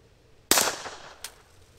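A Walther PPK/S in .22lr firing a subsonic Remington Thunderbolt round about seven feet away: one sharp close crack that decays quickly, followed by a fainter metallic click.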